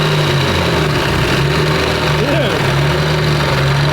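A Mitsubishi Evo 8 engine running on a dyno, a loud steady drone with a brief rev rising and falling midway; a voice speaks briefly.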